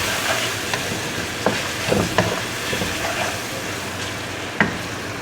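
Spice masala for a dal mash curry sizzles steadily in a pan while a spoon stirs it, with a few sharp scraping knocks against the metal and no talking.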